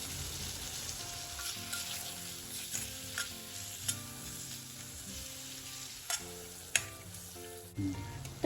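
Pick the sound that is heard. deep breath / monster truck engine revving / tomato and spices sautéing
tomato and spices sautéing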